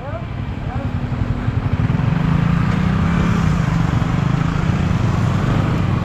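A motorcycle engine runs with a steady, loud low rumble that builds over the first two seconds and then holds, with voices faintly in the background.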